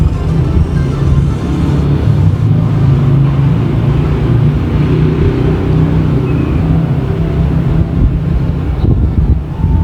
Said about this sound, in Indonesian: Ini ada anginnya kencang sekali ya, ini karena saya membuatnya di luar, jadi angin cukup berpengaruh untuk hembusan